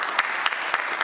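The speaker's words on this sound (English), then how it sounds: "I would like to celebrate that with one big round of applause" A brief burst of applause from a gathered audience celebrating a participant, steady close clapping with a few sharper individual claps standing out, no talk.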